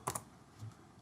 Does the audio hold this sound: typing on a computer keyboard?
yes